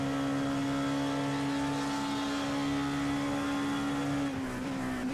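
Heard from the cockpit in a 24-hour Le Mans endurance sim race, a race car engine holds a steady, tonal drone at constant revs, then dips and shifts briefly near the end as the pitch changes.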